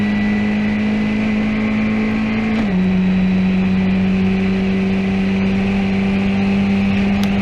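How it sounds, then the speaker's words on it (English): Formula 1600 race car engine droning steadily at close range with a wavering pitch that dips and settles partway through, loud and continuous with no talk. "You can hear the engine wavering."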